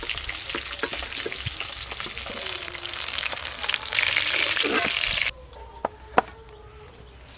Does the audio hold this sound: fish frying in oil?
yes